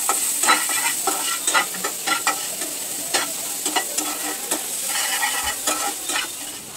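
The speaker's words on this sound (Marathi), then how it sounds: "आपण याच्यात आधी ऑनियन टाकूया. छान कांदा गोल्डन ब्राऊन झाला पाहिजे." Onions frying in a pan until golden brown make a steady, loud sizzle close by, with a spoon scraping and tapping the pan in an irregular rhythm throughout.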